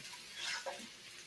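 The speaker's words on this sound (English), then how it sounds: "Is that a deglaze or a cleaning sizzle? That is a cleaning sizzle." Water hisses and sizzles on a hot Blackstone electric griddle during cleaning, a brief, bright burst that swells and fades, with no voices.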